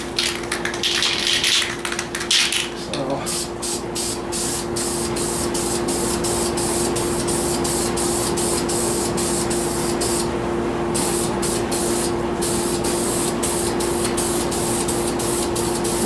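Spray painting a glove cover in a shop, a near, loud aerosol hiss delivered as a rapid run of short sprays with brief gaps, over a steady background hum.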